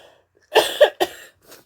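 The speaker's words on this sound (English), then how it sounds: "I'm gonna cough bad." A person coughs twice in quick succession, then gives a short rough cough, close and fairly loud, followed by a faint breath.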